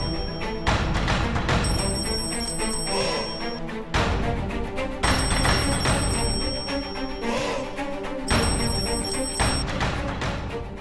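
A telephone rings out on a call attempt. A loud, repeating ringing tune plays in three even cycles of about three seconds each, dense and continuous, with no voices over it.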